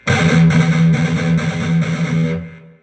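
Loud distorted electric guitar chugs a gallop, two sixteenths then an eighth note, repeated in a steady driving metal rhythm before the final note rings out and fades.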